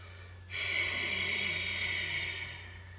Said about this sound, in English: I exhale, making the Darth Vader sound out